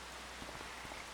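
Steady rain falls in the farming game Farming Simulator 25, a soft, even hiss with faint scattered drops, quiet and continuous with no talk.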